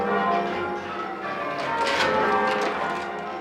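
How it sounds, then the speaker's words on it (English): Church bells ringing a long change-ringing peal, a dense clangour of overlapping strikes filling the air continuously and loudly, with no voices. "9-hour peal of these bells"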